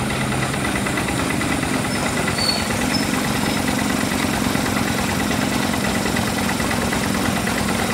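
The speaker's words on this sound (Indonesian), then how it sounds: "Penggunaan traktor ini merupakan cara modern untuk mengolah tanah yang berlumpur." A tractor engine runs steadily while working muddy farmland for rice planting, a continuous low mechanical drone with vibration that holds an even level throughout.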